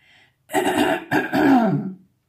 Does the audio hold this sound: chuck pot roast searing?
no